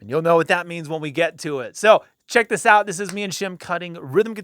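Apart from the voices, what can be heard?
No everyday noise stands out behind the speech.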